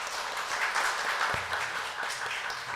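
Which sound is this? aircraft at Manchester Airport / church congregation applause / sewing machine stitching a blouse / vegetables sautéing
church congregation applause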